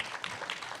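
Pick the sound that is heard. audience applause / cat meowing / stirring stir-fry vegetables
audience applause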